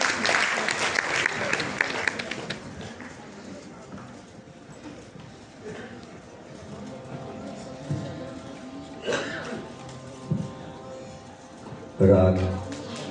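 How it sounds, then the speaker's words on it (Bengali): An audience applauds a family of classical musicians at a concert, with loud clapping at the start that fades into a low murmur and scattered claps, followed by a few brief louder claps near the end. "এই গুণী পরিবারের জন্য একটি জোরে করতালি হবে"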